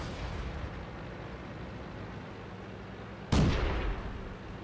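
A tank cannon fires once in World of Tanks, a low-tier battle with a BT-SV: a single loud, sharp boom that rolls off over a second, rising above steady engine rumble and game ambience.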